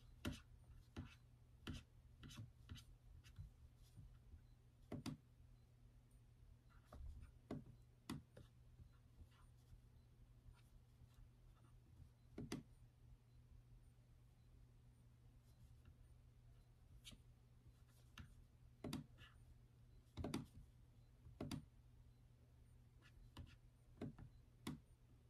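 Sparse, irregular keyboard clicks and taps spread through a quiet room with a steady low hum, the keystrokes near and crisp but intermittent rather than a continuous run of typing.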